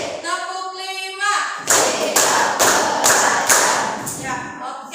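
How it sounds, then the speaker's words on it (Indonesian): A class performs a 'ready to learn' clap pattern: five or so loud, evenly spaced bursts of many hands clapping together, with a teacher's voice just before. "sekarang ibu ada tepuk siap belajar"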